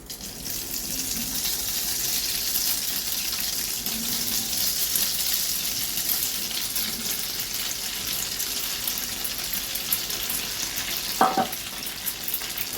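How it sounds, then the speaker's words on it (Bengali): Brinjal kobiraji, eggplant pieces fried in a pan over lowered heat, gives a steady, moderate sizzle throughout, with a sharp clink or scrape near the end and no talking. "বেগুনটা যখন ভাজবে তখন কিন্তু এটাকে একটু আঁচটা কমিয়ে দেবে, নাহলে বেগুনটা ভালো করে ভাজা হবে না।"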